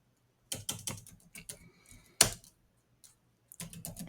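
Code being typed on a computer keyboard: bursts of rapid, close key clicks separated by short pauses, including one sharp louder keystroke midway, no voices.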